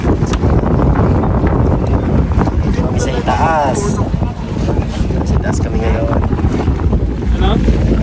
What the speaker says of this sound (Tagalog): Ayan, nandito na kami sa aming bangka na sasakyan.